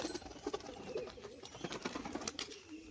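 A caged pigeon, a female crested fancy breed, coos softly in short broken bursts. Faint clicks and light rustling fill the background, and nobody speaks.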